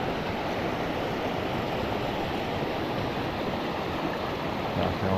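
Steady rushing water flows continuously, a broad even wash of sound like a creek running close by.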